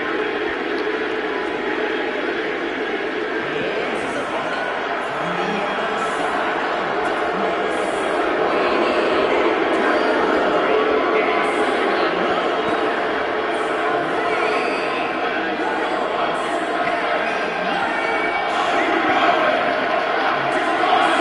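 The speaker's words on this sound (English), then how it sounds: "And listen to this crowd here." Large wrestling crowd at a live pro-wrestling show cheering and roaring steadily for about twenty seconds, a dense wash of voices that swells slightly louder toward the middle and end.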